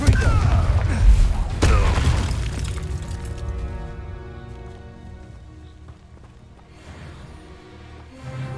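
Confringo spell explosions from Hogwarts Legacy boom heavily in the opening seconds, a deep rumbling blast, then tail off as a sustained musical tone rings out with faint game sounds.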